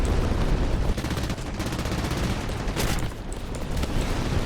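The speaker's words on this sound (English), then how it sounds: "A lot of the AI is shooting at us." Dense, continuous gunfire from AI aircraft in a War Thunder air battle, with rapid overlapping bursts and heavy booming that stay loud and close for the whole stretch.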